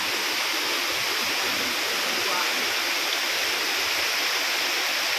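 Tinandayagan Falls in Libmanan, Camarines Sur, pours as a steady, dense rush of falling water, close and constant throughout, with a voice faintly audible under the roar.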